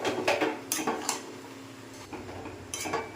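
A spoon scrapes and knocks against a pan while milk is stirred into chana dal halwa, giving several close, irregular metallic clinks over a soft background.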